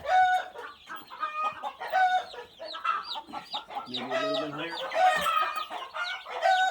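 Pasture-raised Cornish cross chickens in a chicken tractor cluck and chatter continuously at close range, with a person speaking briefly over the flock.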